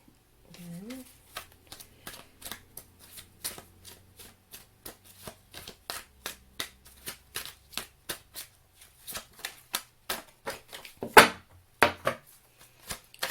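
Oracle cards shuffled by hand for a reading, a steady run of crisp, close card slaps and riffles that grows busier and louder toward the end, with a brief voice near the start.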